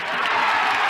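Ice hockey fans of the Stars erupt in a loud, dense roar of applause and cheering after a fight on the rink, a brief, sustained burst of arena crowd noise.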